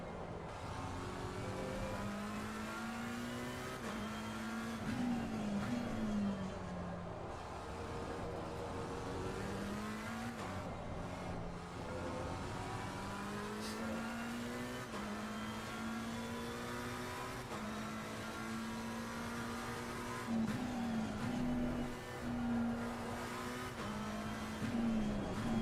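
McLaren race car engine in Assetto Corsa Competizione, heard at Monza, revving hard through repeated gear changes with rising and dropping pitch, loud and continuous across the whole stretch.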